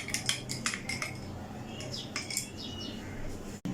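A spoon stirs custard sharbat with tukhmalanga seeds in a glass, making quick, light clinks and taps in short bursts against a quiet background.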